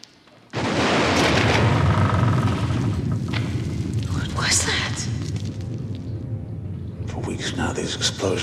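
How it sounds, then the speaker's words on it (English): Deep, heavy explosions boom and rumble in a dense, sustained roar that starts abruptly and stays loud throughout, with scattered higher crackles riding on top. "Now these explosions have grown louder and closer."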